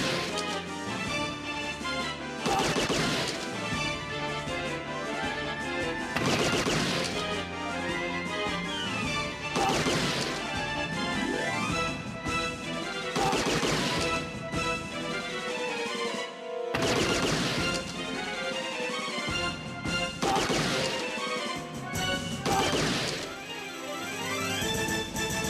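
Gunfire crackles through a shooting sequence in the video game Policenauts, with loud bursts of shots and impacts landing every few seconds over a steady background score for about twenty-five seconds.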